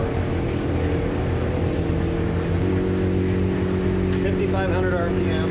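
A Jeanneau NC 895 Weekender motorboat runs at speed, about 33 miles per hour, at around 5,500 RPM. Its loud, continuous engine drone and hull rush stay steady throughout.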